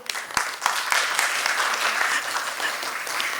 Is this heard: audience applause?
yes